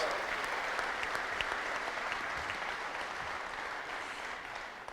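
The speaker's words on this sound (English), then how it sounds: "Let's give her a big round of applause" Press conference audience gives a sustained round of applause, a thick even roar of many clapping hands that tapers slightly toward the end.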